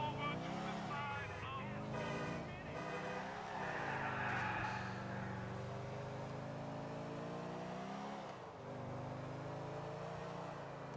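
A car engine revs and whines during a police chase in the video game Grand Theft Auto 4, with shifting pitch and tire noise under game voices and a low background rumble.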